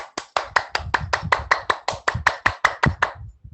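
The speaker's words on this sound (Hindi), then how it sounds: "आज सभी लोग ताली बजाएंगे और बहुत जोर से ताली बजाएंगे" A group claps hands hard and fast in unison during a yoga camp clapping exercise, about fifteen sharp, loud claps in a steady rhythm with no talk.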